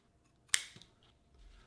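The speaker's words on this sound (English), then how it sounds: "you can go ahead and trim the excess zipper tape out of the way" Scissors trimming excess zipper tape while making a quilted pillow with a zipper closure: one sharp crisp snip followed by a softer second cut, close and alone in a quiet room.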